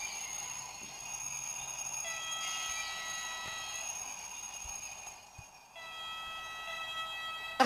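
Horn of an autorail 73500 railcar in a train simulator game, a sustained steady tone held for several seconds with a short gap near the end before it sounds again.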